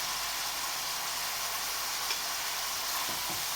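Food frying gently over low heat in a pan after a spoonful of flour is added, a steady even sizzle with faint stirring ticks and no voices.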